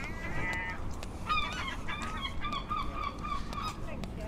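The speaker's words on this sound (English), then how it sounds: "You got to watch out for the seagulls" Gulls on the Brighton seafront cry in a string of harsh, repeated honking calls, several birds overlapping at mid distance over steady outdoor wind and crowd noise.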